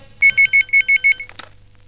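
Telephone ringtone in a Telugu film scene: six quick, bright electronic rings in an even rhythm, loud and close, followed by a brief rustle as the call is answered.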